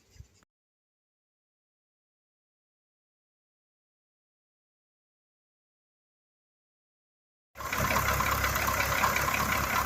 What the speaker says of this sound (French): Bon, on a redémarré le véhicule,